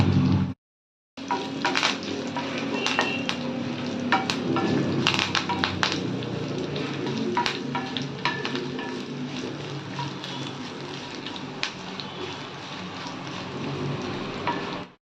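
Curry leaves frying in a hot pan, giving a steady close crackling sizzle with scattered sharp pops that runs throughout after a short silent break near the start.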